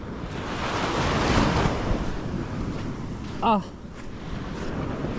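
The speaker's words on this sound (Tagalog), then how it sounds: "Alon. May ilog-ilugan na nga dito." Floodwater waves surging toward a house in strong wind, a steady loud wash of rushing water and gusts throughout, with a brief voice rising over it.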